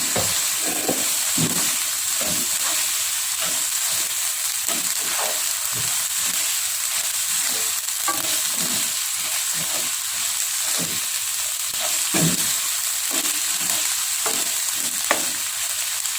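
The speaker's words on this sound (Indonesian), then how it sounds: "selanjutnya di sini kita masukkan cabai, lalu tempe yang kita goreng tadi" Tempeh and chili are stirred in a frying pan with a steady loud sizzle, broken by repeated scraping stir strokes throughout, with no voices.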